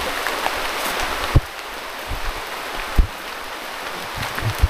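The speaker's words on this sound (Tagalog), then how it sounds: "inabot na kami ng malakas na ulan" Heavy rain falls on hikers on a mountain, a dense steady hiss with a few louder drops or knocks, close and continuous with no talk.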